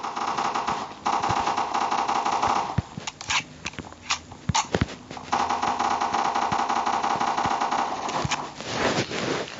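Rapid automatic gunfire in the Minecraft-style shooter Block Strike, with long sustained bursts broken by a few sharp single shots around the middle, loud and close.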